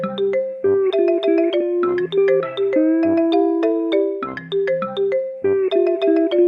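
Bouncy synthesized video game level music from Nicktoons Unite plays alone, a busy looping melody of plucky tones over a steady bass line, loud and continuous.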